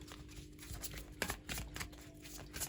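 Tarot cards are shuffled by hand in a quiet room, giving a close, soft run of papery riffles and slaps with a few sharper flicks, heard alone with no talking.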